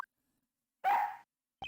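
A police dog in the game Ace Attorney Investigations gives a single short bark, loud and close, after a brief silence, with another short chirpy sound at the very end.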